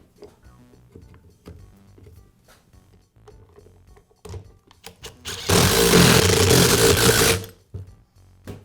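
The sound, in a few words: reinstalling housing on Milwaukee impact wrench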